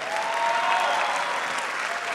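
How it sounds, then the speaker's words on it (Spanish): Audience applause at the Premios Soberano 2016 awards ceremony, a dense, steady burst of clapping from a large crowd filling the room. "Fuerte el aplauso para Jesse Terrero."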